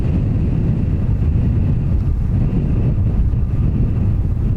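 Strong gusting wind, a 26-knot crosswind at an airport by runway 10 right, buffets the microphone in a steady, loud low rumble that roars on without pause and without voices.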